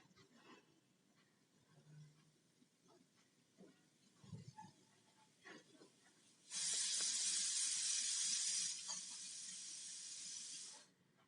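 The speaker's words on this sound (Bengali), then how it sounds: "এই তেলের মধ্যে আমি একটা শুকনো লঙ্কাকে দিয়ে দিলাম, একটা তেজপাতা দিলাম।" Dry red chili and a bay leaf hit hot oil for a Bengali vegetarian banana-flower dish, setting off a loud, steady sizzling hiss that starts abruptly, holds for a few seconds, then eases slightly before cutting off.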